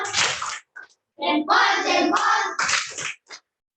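A group does a thumb clap in a classroom, clapping in short, irregular bursts with brief pauses between them, close by and fairly loud.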